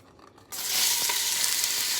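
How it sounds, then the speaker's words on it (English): Pork fat trimmings render in a pot over medium-high heat, a bright, dense sizzle that starts abruptly and holds loud and steady, with a few faint clinks. "Okay, we through rendering some of this fat."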